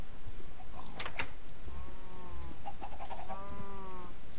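Chickens in Minecraft cluck in a few short bursts of clipped, tonal calls, fairly close over a steady background hum.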